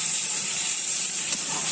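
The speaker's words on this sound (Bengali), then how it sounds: "সুন্দর করে লাল লাল করে ভেজে নেবো, তারপরে টমেটোটা দেবো" Onion, ginger and garlic frying in a pan for a village-style pangas fish curry, giving a steady, close, loud sizzle with a broad hiss that holds without a break and no talk over it.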